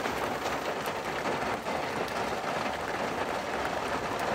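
Heavy rain, following hail, pelts a dirt ground outdoors beside a van in a steady, dense, close hiss with scattered sharper drop impacts throughout, and no talking.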